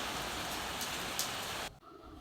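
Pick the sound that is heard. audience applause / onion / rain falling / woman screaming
rain falling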